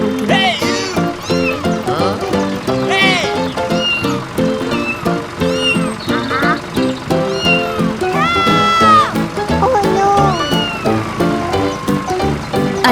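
Several kittens meow repeatedly, high and close, their cries overlapping over a steady tonal background.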